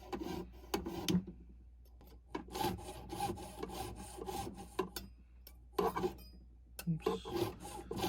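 A small burr knife cutting a castellation slot into a metal bezel held in a vise, giving repeated short scraping rasps in bursts with pauses, close and fairly quiet.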